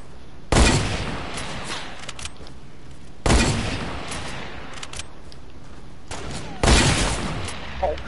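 Three loud hand cannon shots in a video game, spaced about three seconds apart, each a sharp booming blast that trails off into a lingering rumble.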